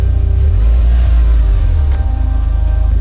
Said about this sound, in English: So let's go ahead and move the car back a little bit to distribute this weight better